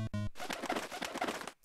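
In a Mario video game level, a pigeon sprite gives a cooing sound effect: a brief electronic tone followed by a busy, fluttering, cooing burst, heard alone.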